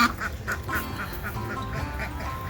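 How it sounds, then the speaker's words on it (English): Young Easter ducklings quack in a steady string of nasal calls, repeated several times per second, close and fairly loud, with no voices over them. "that's one of the Easter duckling boys"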